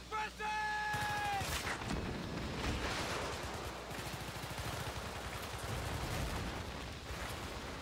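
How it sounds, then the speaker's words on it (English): Battlefield 3 combat erupts with a heavy explosion followed by a long rumbling boom and scattered gunfire crackling through it, loud and close, with no speech. "Big explosion."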